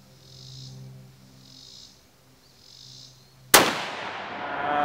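A Savage Axis .308 rifle fitted with a 3-12x50 scope fires one loud, sharp shot at an outdoor sighting-in session, following a few seconds of faint buzzing, with a ringing decay afterward.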